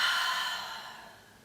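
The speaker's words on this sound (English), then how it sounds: "taking 2 deep breaths here" Deep breaths during a desk yoga stretch: one long, soft exhale sighing out close to the ear, fading away gradually.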